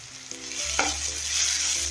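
Tomato goes into masala frying in a pan for a chicken kheema, a burst of sizzling with a brief stirring scrape, hot oil crackling on continuously afterward, no talk.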